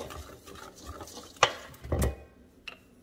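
Seasoning of onion powder and salt being mixed in a bowl, a few close, quiet scrapes and taps with a sharp click and a short rattling stir, without talk.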